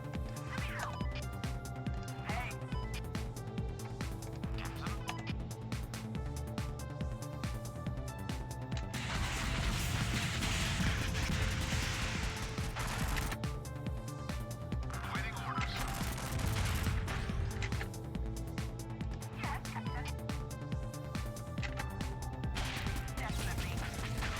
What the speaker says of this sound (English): So now we're gonna start shooting.